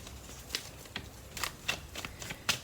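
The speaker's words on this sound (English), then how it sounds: "I feel like I need one more shuffle" Tarot cards riffle and slap together in quick, crisp bursts, a close and fairly quiet shuffling with brief pauses between strokes.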